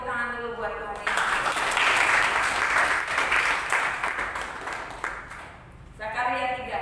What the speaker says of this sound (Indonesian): Ayo tepuk tangan dulu buat Tuhan Yesus.